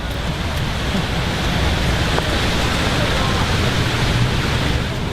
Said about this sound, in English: Look at that rain, it's absolutely downpouring.